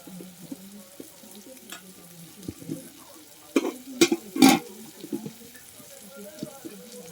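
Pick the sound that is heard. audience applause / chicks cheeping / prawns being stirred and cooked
prawns being stirred and cooked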